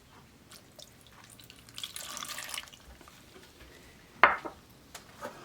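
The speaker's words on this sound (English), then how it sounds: "And here is the vegetable stock." Vegetable stock poured into a cooking pot for stuffed grape leaves, a soft liquid splash building for a moment, then a sharper clink and a few small drips, close by with no talk.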